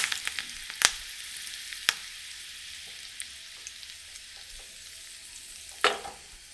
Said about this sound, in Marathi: गरम झालं की आपण त्यामध्ये जिरे घालणार आहोत.